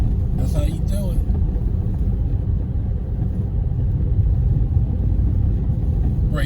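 A car creeps slowly through rutted snow during a heavy New Jersey snowstorm, giving a steady low engine and tyre rumble throughout, with a voice briefly heard early on.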